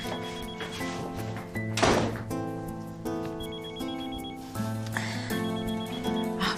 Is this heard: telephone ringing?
yes